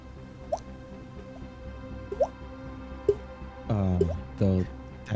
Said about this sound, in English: and then a dripping sound.